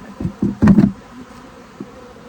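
Honey bees at beehive colonies give a few short bursts of close buzzing and bumping sounds, then fade into a quieter hum with one faint tap.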